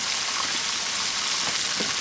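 Wild-caught shrimp and beef fry in mushroom butter in a pan over a campsite fire, a dense, even sizzle filling the whole moment, loud and close with faint stirring movements.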